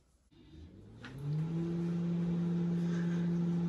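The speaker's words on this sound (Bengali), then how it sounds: "আমি মাইক্রোওভেনে দিচ্ছি এখন।" A microwave oven melting butter starts up after a second of quiet, then settles into a steady, moderately quiet electric hum that drones on evenly to the end.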